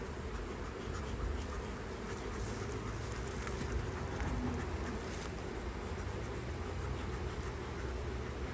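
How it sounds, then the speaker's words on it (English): Agitated honeybees hum in a dense, constant swarm while a bee package is installed in a hive. The buzzing stays loud and close throughout. "Couple angry bees on me."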